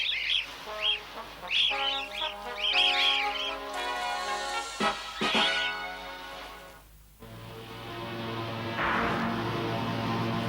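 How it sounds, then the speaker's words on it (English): A plane's cargo hold full of birds in an animated show gives off clucking, squawking bursts early on, then fades under a tonal music-like bed. "A plane load of birds?"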